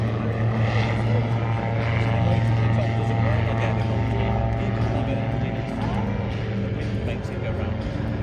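An autogyro flies a stunt display at an airshow, its engine and rotor giving a steady loud droning hum throughout, with a commentator talking over it.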